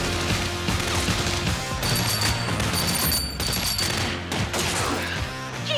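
Sustained heavy gunfire in a military combat scene, dense overlapping shots and bursts rattling continuously and loudly throughout, with crashing impacts mixed in.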